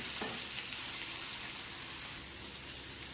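Eggplant sautéing in a pan for a tangy tamarind dish gives a steady, even sizzle of frying with a faint stirring scrape, close and continuous without a break, growing slightly softer near the end.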